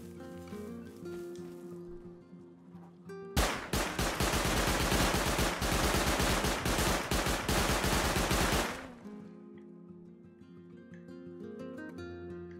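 An automated turret in the Rust video game fires a long, loud, unbroken burst of rapid gunfire for about five seconds while it is being drained, with quieter game ambience before and after.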